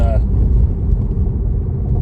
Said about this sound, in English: The car is driving itself.